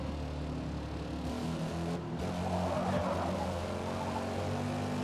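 Forza Motorsport race car at Mugello Circuit, its engine a steady high-speed drone with layered harmonics and a slight pitch shift, joined by faint tire noise, holding loud and continuous throughout.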